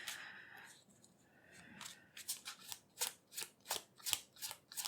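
A tarot deck shuffled in a steady run of crisp, close riffling snaps, roughly seven evenly spaced flicks after a quiet start, fairly soft overall.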